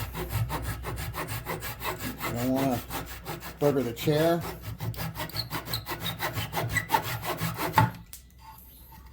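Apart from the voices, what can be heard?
sawing off excess wooden dowels on office chair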